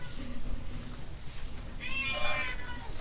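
A cat meows during a tabletop role-playing session, one moderately loud, drawn-out call rising out of a noisy room background near the end.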